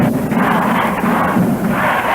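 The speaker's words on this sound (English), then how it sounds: "I just hope that we're audible over the crowd out here tonight." Dense, loud crowd roar fills a 1971 East-West high school basketball game, a steady wall of cheering and shouting voices with no clear pauses, surging slightly throughout.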